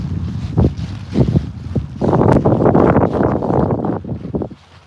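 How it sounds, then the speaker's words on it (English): Gusty wind buffets the microphone outdoors in a cemetery, loud rumbling bursts swelling and easing over several seconds before dropping off at the end. "Sorry about the wind, y'all."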